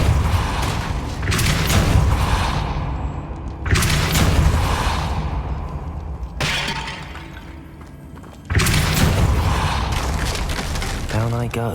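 Depulso force spell cast in the Hogwarts Legacy video game, heard as repeated loud booming bursts with crashing debris tails, several sharp onsets spaced a few seconds apart over a dense game soundscape.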